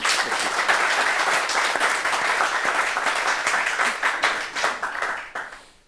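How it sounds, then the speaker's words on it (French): Steady, loud applause from an audience, dense clapping that holds for several seconds before tapering off. "Ça s'applaudit quand même."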